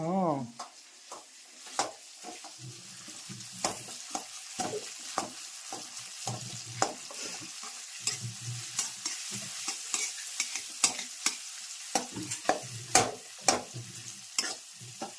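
Dates are stirred and roasted in ghee in a pan for black sesame kachariyu, with a steady soft sizzle under repeated scraping stirs close by.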